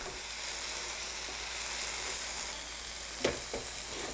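Food fries in an electric frypan under a constant close hiss, and near the end one sharp scrape and a fainter second mark a quick stir.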